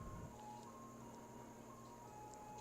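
Faint, distant chiming melody from an ice cream truck parked outside a window, playing continuously over a steady indoor hum, with no talking.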